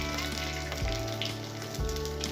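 Ghee hitting hot oil in a pan, a bright close sizzle and crackle that holds steady, with two low thuds and no talk.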